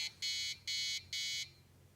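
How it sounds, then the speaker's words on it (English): Three bursts of an Arduino motion sensor alarm buzzer, each about a third of a second long with short gaps between them. They are shrill and steady, then fall silent over a quiet background. "the sensor will detect motion and trigger an alarm buzzer and an LED light to light up"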